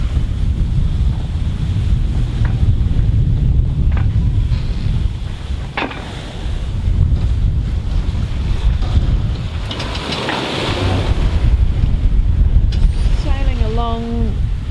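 A sailboat runs along off Cape Manifold toward an island near Great Keppel Island, with steady wind buffeting the microphone and water rushing around the hull throughout, and a brief high chirp near the end.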